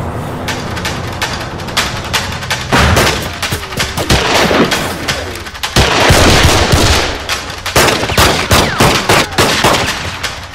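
Heavy gunfire rattles continuously in rapid automatic bursts, loud and close, with booming single shots mixed in at an action-film shootout; no voices.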